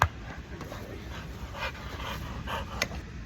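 A shepherd mix shelter dog pants steadily at close range, quick rhythmic breaths with a few faint whimpers over a light background hiss.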